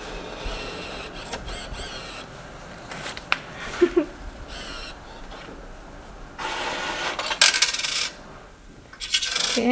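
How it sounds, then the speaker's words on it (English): Coins clatter out of a payment machine at a library as change, several metallic drops and jingles among mechanical whirring and printer-like buzzing, fairly close and loud. "here you get the rest of the coins."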